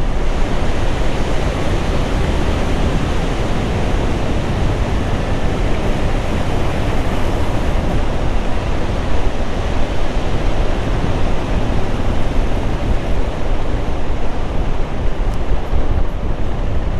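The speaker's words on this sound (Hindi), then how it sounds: "यहाँ से काली नदी की आवाज़ आती हुई" The Kali river rushes through a mountain gorge near Malpa and Dharchula in Uttarakhand, a loud, unbroken roar of turbulent water heard close up with wind noise and no talking.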